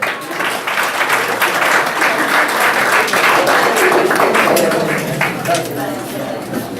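Loud, close applause from an audience at a ceremony presenting a book, with dense rapid clapping that holds steady for several seconds before easing slightly, with some voices mixed in.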